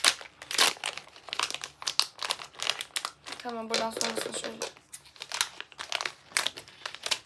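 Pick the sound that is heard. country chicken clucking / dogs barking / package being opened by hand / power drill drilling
package being opened by hand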